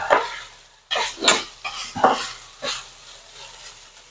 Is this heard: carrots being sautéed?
yes